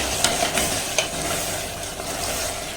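A spoon stirs curd into a sizzling beetroot biryani gravy in a pan, with soft scrapes and a few sharper clinks of utensil on metal over a steady frying hiss, close and without speech.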